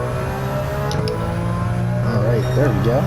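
Toyota GR Corolla engine pulling hard on a race track, a steady droning note under the cabin, with the driver talking over it and the pitch rising toward the end.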